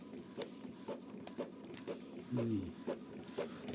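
A printer printing a landscape-oriented page, its mechanism ticking and whirring in a steady rhythmic pattern with a brief rising motor sweep midway, close and moderately loud, with a few words spoken over it.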